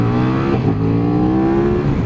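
A 2017 KTM 1290 Super Duke GT motorcycle revving hard to about 8,000 RPM, its engine note climbing steadily in pitch, loud and close, with no talking.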